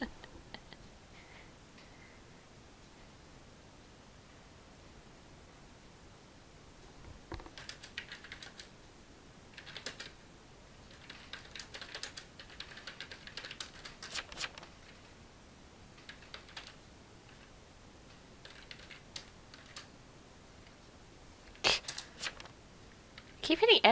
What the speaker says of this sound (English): You can see my lovely typing!